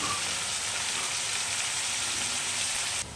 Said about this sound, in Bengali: পেঁয়াজগুলো আমি দিয়ে দিয়েছি তেলের মধ্যে তারপর পেঁয়াজগুলোকে হালকা করে ব্রাউন কালারের ভেজে নেবো